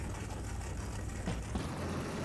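Engine of a car driven on a test track in Car Mechanic Simulator 2021, a steady, quiet, low engine drone that holds at an even level throughout, with no voices.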